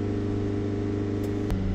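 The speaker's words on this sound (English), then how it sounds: "Just going to give it a few rev bursts." Diesel engine of a SAIC Maxus Deliver 9 van with a DPF fault, held at a steady high rev with a sharp burst near the end, loud and close with no talk.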